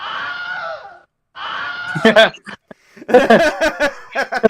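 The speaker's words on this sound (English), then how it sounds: "Is that the Wilhelm scream?" The Wilhelm scream sound effect during a tabletop game session, with two drawn-out anguished male screams followed by a burst of startled voices and laughter close by.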